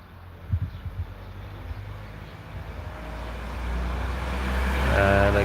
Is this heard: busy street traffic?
yes